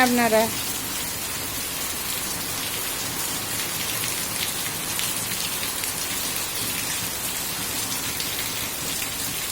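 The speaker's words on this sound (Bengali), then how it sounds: "দেখো বন্ধুরা কী হারে বৃষ্টি হচ্ছে" Heavy monsoon rain pours steadily onto a village courtyard and roofs, a dense, loud, continuous hiss close by, with no talk.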